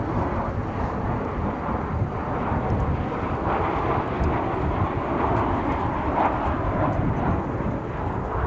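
A Boeing 737-800 jet at DFW International Airport gives off a loud, steady roar that rumbles on without a break, mixed with wind buffeting, and no one speaks.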